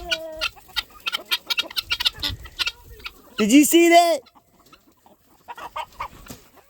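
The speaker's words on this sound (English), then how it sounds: "That's an assault rooster." A rooster on a farm lets out a loud, squawking burst of clucks near the middle, with speech before it and a voice briefly afterwards.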